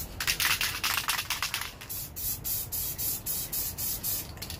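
Short bursts of aerosol spray paint hiss in light dust passes onto a fiberglass mannequin, several quick light passes in a row, close and fairly loud, with brief gaps between them.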